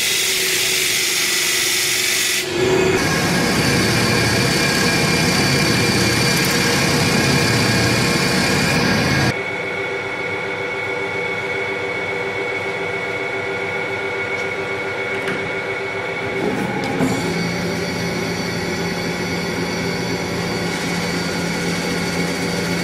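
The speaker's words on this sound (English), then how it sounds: "we perform ordered grinding operations with abrasive tapes from 150" Bearing steel samples ground metallographically against abrasive tapes from 150 to 1000 grit, a loud continuous machine whir and grinding hiss that shifts tone partway through as the load changes, with no talking.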